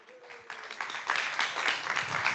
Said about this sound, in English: I don't know if you can hear the in-person applause in the room.